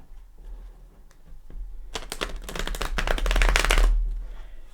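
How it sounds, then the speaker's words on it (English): A deck of tarot cards is riffle-shuffled once in a quick, close flurry of rapid flutters, with quiet before and after. "let's go ahead and give this a shuffle"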